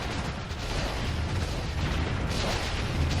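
Dense, continuous rattling gunfire with heavy booming blasts, a steady barrage of machine gun fire in the strategy game Warzone 2100 with no pauses.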